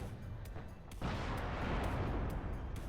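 Tank cannon fire in the WARNO wargame between a Chieftain and a T-72: a sharp boom lands about a second in, then a sustained rumbling blast tail lingers under scattered smaller impacts.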